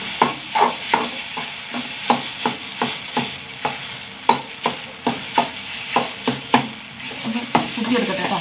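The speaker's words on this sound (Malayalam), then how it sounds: "കൊത്തി പൊരിച്ചെടുക്കണം" Rhythmic metal scraping and tapping as eggs are chopped and stirred in a sizzling pan, roughly two strokes per second, close and clear.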